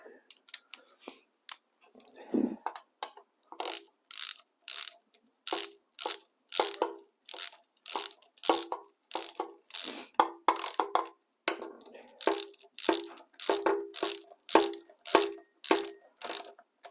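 A hand ratchet clicks in quick, evenly spaced bursts while snugging down bolts on a Datsun 120Y engine, with dozens of sharp close pawl clicks separated by brief pauses.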